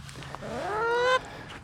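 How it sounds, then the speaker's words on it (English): A single loud, rising goose honk from geese flying over a homestead berry patch swells and then cuts off sharply, standing out clearly over a soft outdoor background. "Oh, the geese are flying over,"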